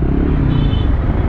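A motorcycle on a road near 300 Feet passes close by with a loud, rough engine rumble and drone over the brief moment, no speech heard.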